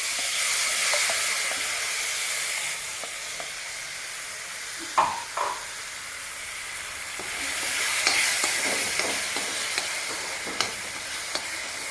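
Tomato purée paste frying in oil in a pan gives a constant hissing sizzle, with periodic stirring scrapes and a few sharper knocks of the spoon, close and without speech.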